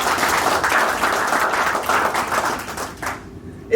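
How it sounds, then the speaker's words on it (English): Graduates of a UPS frontline supervisor training school clap for themselves at their graduation ceremony, a dense, steady wash of many hands that fades out in the final half second. "clap it up for yourselves."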